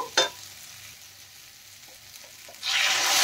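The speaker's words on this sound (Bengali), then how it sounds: "এখন আমি জল দিয়ে দেব।" Water pours into a pan of frying fish and potato masala, a faint quiet simmer giving way to a sudden loud rushing hiss that continues to the end, after a brief clatter at the start.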